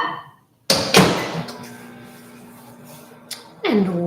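A dish goes into a microwave and its door is closed: a sharp thunk, a second knock, then quieter handling clatter and another tap, all close by, followed by the start of a voice.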